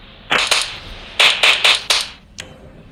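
Sniper rifle shots ring out in the mobile game Indian Bike Driving 3D, about six sharp, loud cracks in two clusters, followed by a fainter final shot, with no talk.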